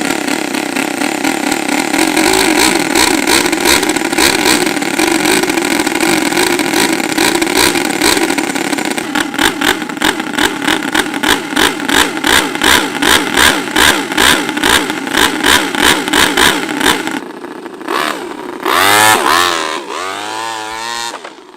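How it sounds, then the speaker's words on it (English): An RC car's small four-cylinder turbo engine buzzes and revs loudly, the pitch rising and falling in repeated pulses, then it sputters with a few sharp revving bursts near the end. "what we have here is a 4-cylinder turbo engine with a completely working exhaust and everything"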